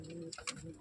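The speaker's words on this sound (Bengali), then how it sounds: "কত অ্যাক্টিভ পায়রা।" Lakka fancy pigeons giving a short soft coo, faint and brief, with quiet background.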